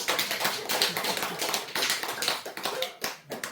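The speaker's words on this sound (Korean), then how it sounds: "박수 안 쳐요?" During a Sunday Buddhist dharma talk, the audience claps in a fast, dense patter of overlapping hand claps that fills the room, fairly close and loud, with a brief lull before resuming.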